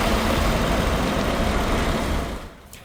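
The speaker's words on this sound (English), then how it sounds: "Aid trucks bound for Gaza were seen earlier today" Heavy aid trucks bound for Gaza rumble past close by, a steady loud engine drone that fades over the last half second.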